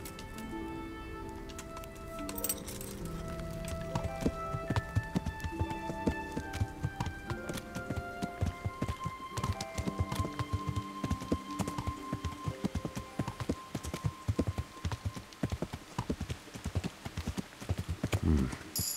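Steady clip-clop of horse hooves at a trot in the video game Kingdom Come: Deliverance, over a bed of game music, the hoofbeats close and continuous throughout.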